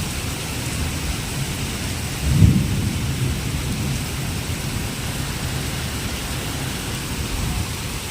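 Heavy rain hisses steadily and loudly, with a low thunder rumble swelling briefly near the start and then fading back under the downpour; no one speaks.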